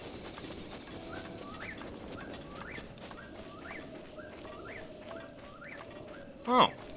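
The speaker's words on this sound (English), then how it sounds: "It's a whippoorwill." A faint whippoorwill-style call repeats about eight times in an even rhythm over soft ambient background in Breath of the Wild, followed by a brief louder sound near the end.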